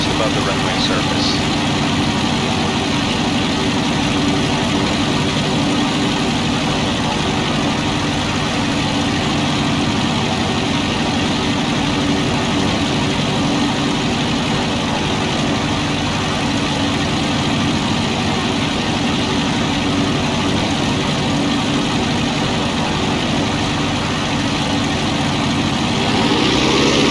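A small airplane's engine holds a steady 1500 RPM during slow flight just above the runway surface, a loud, continuous drone with strong low rumble and unchanging pitch throughout.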